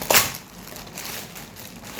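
A plastic packaging bag for a camera accessory bundle is torn open with a sharp, loud crinkling rip near the start, followed by quieter rustling of the bag for the rest of the moment.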